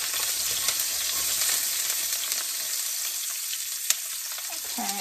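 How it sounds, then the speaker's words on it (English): Onions sizzle and fry steadily in a hot wok while being stirred, a constant bright crackle with occasional scraping taps, close and alone without speech. "The wok heats up very quickly. So I'm gonna add my onions first. I'm gonna keep busy stirring."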